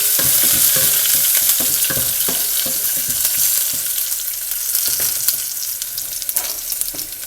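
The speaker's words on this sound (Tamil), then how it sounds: "அப்புறம் இஞ்சி பொடிசாக வெட்டி வச்சது, பச்சை மிளகா போட்டு தாளிச்சிருங்க." Ginger, green chillies and curry leaves tempering in hot oil for poori masala, a steady crackling sizzle with scattered pops and stirring scrapes, close and continuous with no voices.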